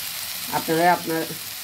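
Green chillies drop into hot oil in a pan for a tengra fish curry, a short burst of crackling sizzle that swells and fades within a second or two, close and fairly loud.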